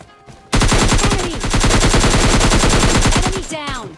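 Rapid automatic gunfire in a video game, a long loud burst of evenly spaced shots firing alone for about three seconds before stopping, followed by a brief sliding tonal sweep.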